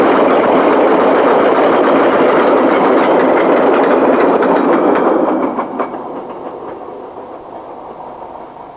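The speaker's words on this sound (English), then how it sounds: "A Class 40 on a train bound for Carlisle." A British Rail Class 40 diesel locomotive hauls a freight train across the Ribblehead Viaduct on the Settle–Carlisle line, a loud sustained roar with wagon clatter that drops away sharply near the end as the train passes.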